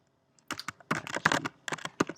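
Close keystrokes on a Mac keyboard as a terminal command is entered, a short burst of quick, uneven clicks after a brief silence, with no talk.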